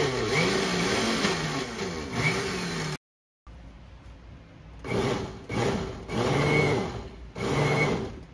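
A blender churning gazpacho runs loud and grinding, cuts off abruptly for a short silence, then restarts with surging, uneven pulses as the mixture is pulled down.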